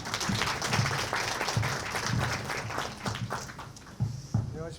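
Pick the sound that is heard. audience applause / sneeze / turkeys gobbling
audience applause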